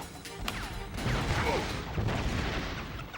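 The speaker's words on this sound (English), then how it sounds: "explosion gets him" An explosion in the Ratchet and Clank video game, a heavy booming crash with rumbling debris and clattering game effects lasting a few seconds, loud and dense.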